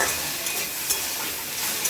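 Water spinach (kalmi saag) is stir-fried in a pan, giving a dense, close sizzle with rustling, scraping stirs and a couple of light clinks.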